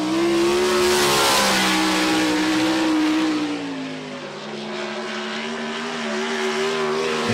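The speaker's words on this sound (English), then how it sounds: "this is his 410 sprint car" A 410 sprint car engine roars loudly around a dirt track, its harmonic drone rising and falling as the car slides sideways through the turns, sustained and close with no talk over it.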